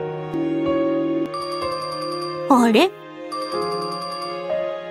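Video game phone ringtone during a call, repeated electronic bell-like rings in short bursts, loud and close, briefly interrupted by a voiced exclamation midway.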